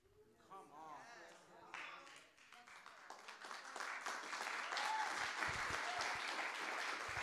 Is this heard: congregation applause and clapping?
yes